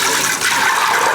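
Strained blackberry lemonade pours into a pot in a steady, close, continuous liquid rush for about a second, with no talking.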